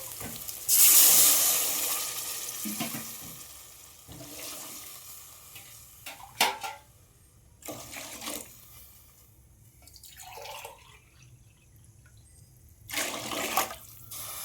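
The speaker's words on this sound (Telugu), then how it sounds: "4 గ్లాసెస్ వాటర్ వేస్తున్నాను" Water pours and splashes into a cooking pot of rice in a few separate bursts, close by, four glassfuls, with quiet gaps and clinking between pours.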